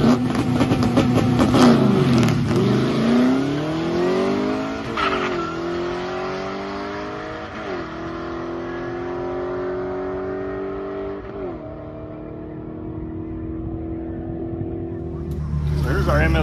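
1957 Chevy daily driver with a carburetor and MSD ignition accelerating hard away from the line at a drag race track, its engine note climbing through several gear changes, loud and close, then fading at the end.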